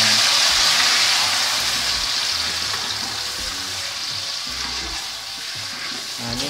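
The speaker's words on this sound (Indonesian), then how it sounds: "Kita akan goreng sambalnya atau cabai yang kita haluskan." Ground chili paste frying in hot oil for Padang dendeng sambal, a loud, steady sizzle with a bright hiss that holds throughout and eases slightly toward the end, no voices.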